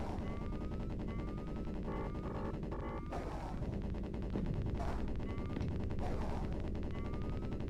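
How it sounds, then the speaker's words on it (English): Missile fire and combat effects from Steel Talons, a helicopter combat game on the Sega Mega Drive, with repeated rising tones and crackling gunfire bursts over a dense, continuous game soundtrack. "Trying to hit him with a missile."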